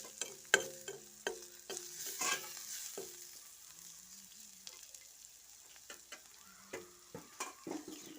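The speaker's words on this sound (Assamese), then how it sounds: "এয়া মই দি দিলোঁ নহৰু, অকণমান লৰাই দিছোঁ" Crushed garlic frying in mustard oil in a pan, stirred with sharp utensil scrapes and clacks over a soft, steady sizzle; quieter stretches between bursts of stirring.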